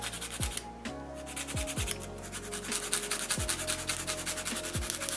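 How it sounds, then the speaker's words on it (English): Acrylic nails being filed at an angle with a nail file, rhythmic raspy scraping strokes repeating about once a second, close and moderately quiet, with no talking. "So yeah, let's just start filing."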